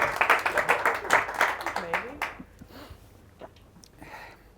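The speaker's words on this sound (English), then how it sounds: "nice round of applause for JJ." A studio audience at a mind-tricks stage show claps for a contestant in a brief burst that fades after about two seconds, with a voice speaking over the end.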